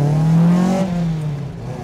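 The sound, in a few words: MGB GT with Duratec engine on bike carbs accelerating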